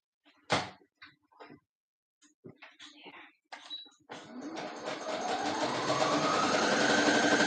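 A sewing machine runs a zigzag stitch on stretch knit fabric, starting after a few scattered clicks and knocks, then whirring steadily and close for several seconds, with no talking.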